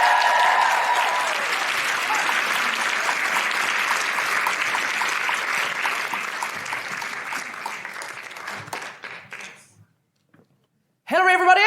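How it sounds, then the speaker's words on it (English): A live comedy audience in Canberra applauds for a performer named Hillary, with steady, dense clapping that tapers off into a brief silence before a voice returns at the end. "Big round of applause for Hillary, please."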